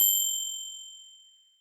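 A notification bell gives a single bright, high ding that rings out alone and fades away smoothly over under two seconds.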